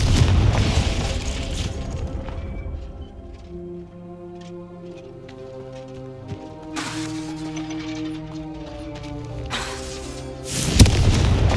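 A Confringo fire spell explodes in the Hogwarts Legacy video game, with sharp bursting blasts near the start, around the seven-second mark and again near the end, over a sustained musical game score.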